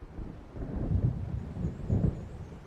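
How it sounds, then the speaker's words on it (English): Low, rolling thunder from an approaching storm in the Alan Wake video game, two deep rumbles swelling and fading at a distance over a soft wash of rain and wind. "It seems there's a storm coming."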